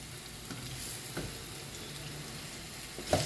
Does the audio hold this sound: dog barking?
no